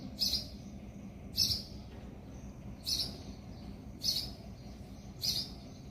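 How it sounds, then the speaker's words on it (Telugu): In a home garden a bird repeats a bright, sharp call five times at roughly even intervals of about a second. The calls come clear and fairly close over a low, quiet background hum. "అదిగోండి బర్డ్ ఎంత బాగా అరుస్తుందో."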